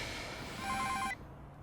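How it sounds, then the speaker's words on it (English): A telephone gives a brief electronic ring, a quick burst of trilling tones that cuts off abruptly as it is answered, faint against a low room background. "Hello, Kim Jong-un's phone."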